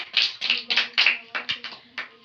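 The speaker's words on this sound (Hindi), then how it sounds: "जोरदार तालियां बजाएंगे" Around nine quick, rhythmic hand claps ring out close by, like a small group of children applauding together in a Bible class.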